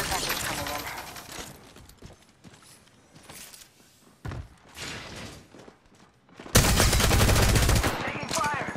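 Gunfire from an Apex Legends Season 9 match on PC: scattered rapid shots and short bursts at varying distances, with a loud, sustained close-range volley in the last couple of seconds.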